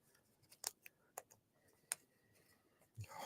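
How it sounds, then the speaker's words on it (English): Scissors snip paper close by. A few quiet, sharp clicks come at uneven intervals, with soft handling noise between the cuts. "So let's snip that one there."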